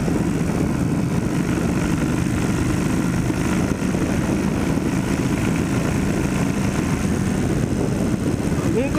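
A Kawasaki Vulcan 1500 motorcycle engine runs with a loud, steady, low rumble that holds without a break for the whole stretch.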